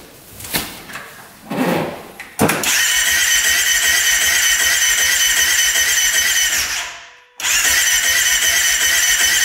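A UTV engine with its choke pulled cranks a couple of times and then catches, settling into a loud, steady buzzing run. It cuts out briefly and then fires again.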